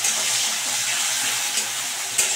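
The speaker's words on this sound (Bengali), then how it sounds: "দিয়ে এবার কিন্তু খুব ভালো করে পেঁয়াজগুলোকে ভেজে নিতে হবে, একটু লাল লাল করে" Onions frying in a pan for a Bengali chicken kosha, giving a steady close hiss and sizzle that runs unbroken, with a couple of small sharp spikes near the end.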